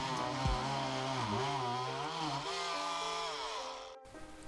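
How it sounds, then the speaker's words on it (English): Oscillating multi-tool cutting into a wall above plumbing pipes during a tankless water heater relocation, a steady close buzzing whine with wavering pitch that runs about four seconds, then stops abruptly. "Kofi chose an oscillating tool to complete this task because of the precision it allows in cutting."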